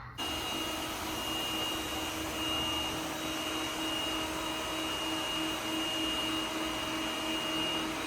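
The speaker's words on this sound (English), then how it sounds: "Switch to vacuum and mopping mode." A steady, even whirring hum with a faint high-pitched whine runs continuously from a Yeedi Vac 2 Pro robot vacuum cleaner running nearby in vacuum and mopping mode.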